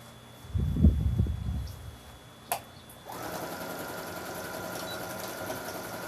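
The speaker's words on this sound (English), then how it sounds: "It's a sewing machine and a quilting machine." A Juki multi-needle sewing and quilting machine whirs steadily from about three seconds on, a continuous even mechanical hum at close range, preceded by brief low bumps and a sharp click.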